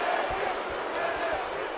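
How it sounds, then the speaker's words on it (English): A stadium crowd in a WWE 2K wrestling video game chants NXT, a steady, dense roar of many voices that fills the whole moment without a break. "And this crowd is chanting NXT."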